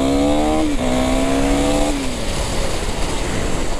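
A 390 motorcycle is ridden on a road with the throttle opened, its engine note rising and falling close by and loud, with wind noise and no talking.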